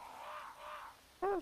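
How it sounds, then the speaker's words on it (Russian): Crows caw in the village area of Resident Evil 4, drawn-out calls carrying softly in the distance before a sharp, louder caw near the end. "А вот вороны."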